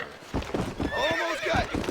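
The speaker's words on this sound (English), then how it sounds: "E conseguimos dominar o cavalo." A horse in Red Dead Redemption whinnies with a wavering high neigh over quick clip-clopping hooves, close and loud in a short burst.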